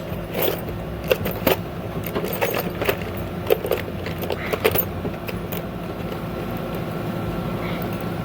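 Small metal nuts and washers clatter and jingle in irregular bursts as loose hardware is rummaged through at close range, gathered for mounting a light bar on an SUV roof cross bar.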